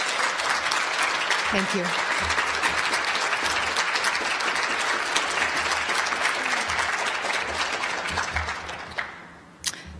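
A conference hall audience claps in sustained, dense applause for about ten seconds, steady and fairly loud, thinning toward the end while a voice speaks briefly under it.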